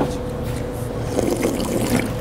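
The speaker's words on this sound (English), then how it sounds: "Little swig of water." Water sloshes and trickles as someone takes a quick swig from a water bottle at the gym, a short, close liquid gurgle with faint background noise.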